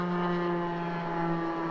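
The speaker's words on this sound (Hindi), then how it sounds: "ये किसी का प्राइवेट जेट जा रहा है," A private jet passes overhead outdoors, a steady droning roar with a tonal hum that holds constant and moderately loud, with no talking over it.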